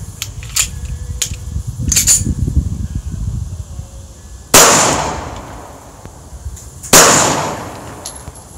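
Two loud, sharp pistol shots from a Girsan 1911, fired a couple of seconds apart, each a sudden crack with a ringing tail, after softer handling clicks and rustling; no talking.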